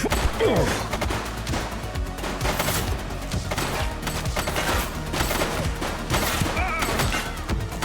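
Rapid bursts of gunfire and crashing impacts from The Precinct video game fire in dense, loud volleys throughout, with no talking.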